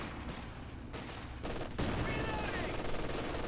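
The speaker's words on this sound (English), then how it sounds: "Popping off a few rifle grenades on that sandbag there." Rifle grenades popping off against a sandbag position in the World War II strategy game Company of Heroes 2, a burst of muffled gunfire and blasts followed by a louder, denser stretch of battle noise.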